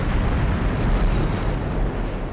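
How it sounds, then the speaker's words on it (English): Torpedoes launch from a warship in the naval game Ultimate Admiral Dreadnoughts, a sustained loud rumbling burst with dense low-end roar and no clear gaps. "There we go, 2 torpedoes going out."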